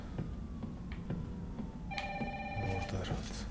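A telephone rings in the video game Resident Evil 3, a bright electronic trill that starts partway through over faint background ambience, with no talk.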